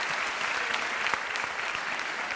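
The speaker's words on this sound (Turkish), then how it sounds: "alkışlıyoruz, tebrik ediyoruz" Sustained applause from a theatre audience at a show, an even, full burst of many hands clapping with no break.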